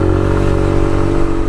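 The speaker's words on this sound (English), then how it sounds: "This bike, it's only a small engine, so it's very quite high revving." A Suzuki VanVan RV125 motorcycle with a small single-cylinder engine holds a steady, loud, buzzing rev up close. The tone is continuous and droning with a slight rattle, and there is no talking.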